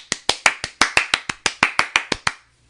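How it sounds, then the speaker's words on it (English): Hand clapping from a small group: about fifteen crisp, evenly spaced claps close by over two and a half seconds, ending abruptly, with no voices. "You deserve a round of applause."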